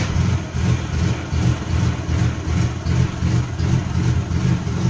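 A 1975 Chevy LUV pickup truck's engine runs close and loud at a rough idle, its rhythmic pulsing throb repeating steadily with no voices over it.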